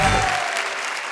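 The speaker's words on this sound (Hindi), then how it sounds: "जोरदार तालियां आपके लिए" A comedy show audience applauds after a poem, a brief burst of dense, steady clapping from a crowd with a low voice fading out at the start.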